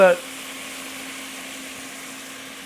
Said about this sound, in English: I just want my pork to cook for about another 3 to 4 minutes